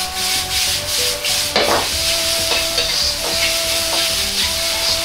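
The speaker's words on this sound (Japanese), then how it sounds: "ソーセージと野菜を入れ炒めていきます。 野菜の水分が出ないように強火でしっかり炒めます。" Sausage and vegetables stir-fried over high heat for Chinese-style fried udon, a loud continuous sizzle close by with scraping strokes of a spatula against the pan.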